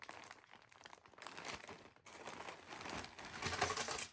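Resealable plastic bags holding building-block pieces are handled close up, giving continuous crinkling and rustling with small bursts of crackle and no speech.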